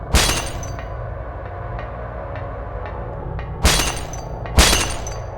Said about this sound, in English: We can hear the sound of glass breaking.